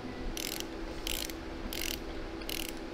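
Ratchet wrench tightening a nut on a StuG III G tank final drive unit in a workshop, heard as four short bursts of rapid clicking spaced about half a second apart over a steady low background hum.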